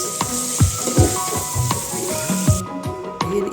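Vegetables sautéing in a pan for pancit, a loud steady sizzle with stirring scrapes and clatter recurring every half second or so, close up with no voices.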